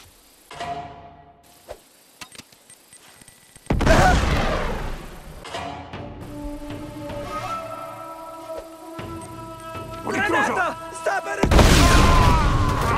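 Grenade explosions go off in the Uncharted 2: Among Thieves video game amid a firefight, with two heavy blasts about eight seconds apart, the second at the very end, and quieter shots and shouted voices in between.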